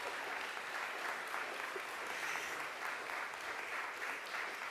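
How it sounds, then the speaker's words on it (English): A church congregation claps steadily for the sopranos of a choir during a Sunday service, a fairly faint, even patter of many hands with no voices. "Please clap for the sopranos."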